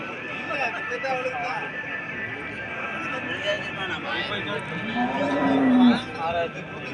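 Cattle at a village cattle market in Muthanaickenpatti, Salem district, Tamil Nadu, with a low moo rising near the end above a constant busy crowd murmur and people talking throughout.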